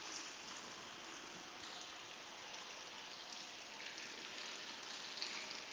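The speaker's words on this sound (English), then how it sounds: "The frying of the meat almost sounds like rain." Meat sizzles in a pan with a soft, steady, rain-like hiss and faint crackle that stays even throughout.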